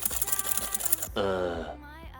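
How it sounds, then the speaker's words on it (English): Instant coffee is whisked by hand for dalgona whipped coffee, with rapid, close clicking strokes for about a second before they stop. "Just keep whisking."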